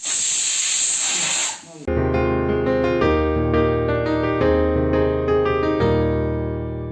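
A pressure cooker whistle shrieks loudly and steadily for almost two seconds as steam vents while cooking Kerala koottu curry with yam, colocasia and raw banana, then cuts off abruptly into background music.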